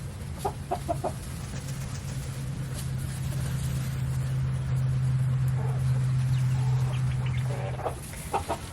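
Farm chickens in pens, with quail kept nearby, cluck and call steadily over a constant low hum, with sharper bird calls scattered near the start and end; no voices.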